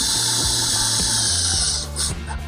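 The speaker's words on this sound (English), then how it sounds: "we're going to secure these with our 3/4 inch Trex screws" A power driver whines steadily and loudly up close as 3/4 inch Trex screws are driven into an aluminum railing with glass panels on a Trex deck, the pitch wavering and dipping briefly near the end.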